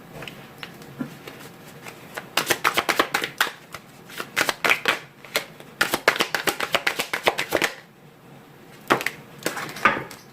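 Oracle cards shuffled in the hands, bursts of crisp riffling clicks and slaps in several runs with short pauses between, close and fairly loud.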